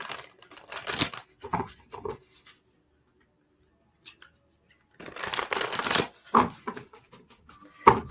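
A large tarot deck riffles and slaps together in bursts, with a long quiet pause in the middle before the shuffling starts again, close up.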